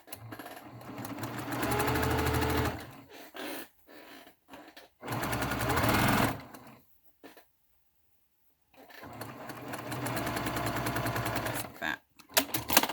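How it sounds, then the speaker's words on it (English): A sewing machine stitches a seam along the edge of a face mask in three runs of rapid steady whirring separated by pauses with soft clicks, close and fairly loud. "I need to sew a seam along this edge right here. And so I'm going to sew this down."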